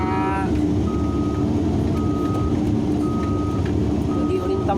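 A dump truck's reversing alarm beeps four times in an even, repeating pattern near a large backhoe, over a loud, steady rumble of heavy machinery engines.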